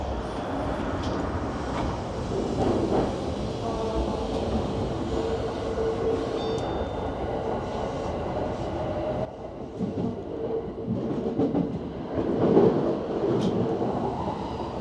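Steady rumble of a Japanese express train in motion, heard from inside the conductor's cab, a continuous loud low roar with faint rail clatter and a brief dip in level midway, no talk.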